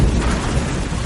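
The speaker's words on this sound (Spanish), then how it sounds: "tormenta eléctrica no había cesado un ápice" Thunderstorm with heavy rain in an audio drama, a dense, loud, low rumble with steady rain noise across a short stretch.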